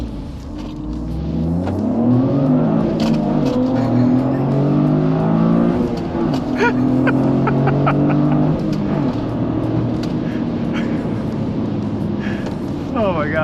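A Toyota GR Corolla with a three-cylinder, 300 horsepower, all-wheel drive and manual gearbox launches against a Ford Bronco Raptor, engines revving hard and climbing through gears, loud and close, with a voice speaking over the acceleration.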